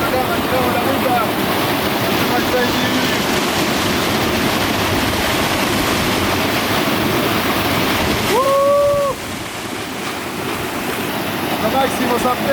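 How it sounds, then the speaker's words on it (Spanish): A waterfall at San Pedro de Atacama pours out a steady, loud roar of rushing water that fills the whole scene, with a brief whistle-like tone near the end. "Estamos aquí en la cascada de San Pedro de Atacama"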